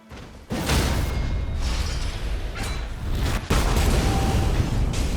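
The fiery explosion attack of Wylder, a video game character, hits as a sudden heavy blast that rolls into a long roaring rumble, followed by a second booming burst a few seconds later, loud and without talk.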